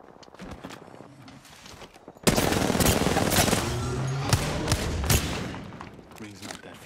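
Gunfire in an Apex Legends-style match, quiet scattered shots first, then a sudden loud stretch of dense automatic fire with impacts and repeated bursts continuing for several seconds.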